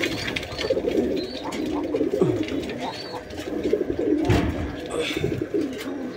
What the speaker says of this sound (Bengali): জানি যে একটা কবুতর, ওই যে দেখেন,